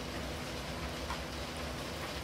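Steady rain falls in the horror video game Disappear, a dense, even hiss of drops on surfaces running unbroken throughout with no voices over it.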